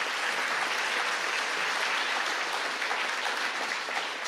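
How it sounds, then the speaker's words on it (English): Audience applause at a local campaign debate forum held in a secondary school cafeteria, a steady dense clapping that stays loud and even throughout. "So let's give them a nice round of applause."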